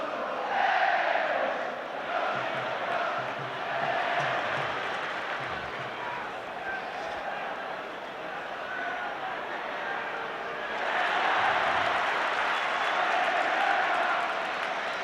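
A crowd of nearly 44,000 at a Liverpool versus Spurs football match roars and cheers after a goal, a broad sustained swell that fades slightly and then surges again, with no clear voice over it.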